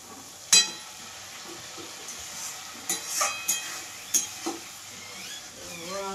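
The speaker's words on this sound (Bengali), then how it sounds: "মশলাটাকে ভাজে ভাজে।" Spice masala frying in a pan with a little water, a soft steady sizzle broken by several sharp scraping and stirring knocks, fairly close.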